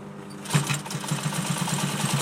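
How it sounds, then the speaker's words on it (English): A sewing machine stitches across a chair arm cover fabric in a home garage workshop; after a quiet start it runs in a fast, steady, evenly pulsing rattle, close and alone. "we continue to sew across here"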